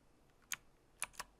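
A few soft, close keystrokes on a computer keyboard, three separate taps in a quiet room.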